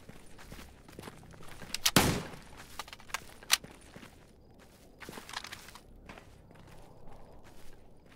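In Stalker GAMMA, a shot from another shooter cracks out loudly near the two-second mark, followed by a sharper report and then scattered quieter clatter and steps.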